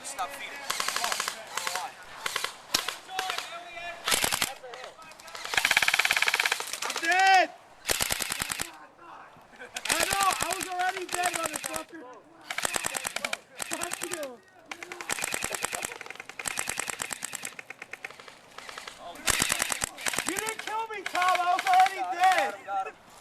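Airsoft guns fire in rapid bursts and strings of snappy shots at an outdoor game, loud and close, broken by short gaps, with players shouting and talking between volleys.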